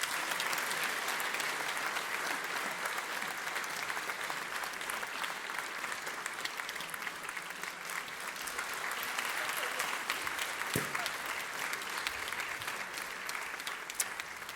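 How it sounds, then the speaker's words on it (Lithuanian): An audience at the Metų Klaipėdietė award ceremony in Klaipėda claps steadily and warmly for the whole stretch, a dense sustained applause from a large hall. "Aplodismentai."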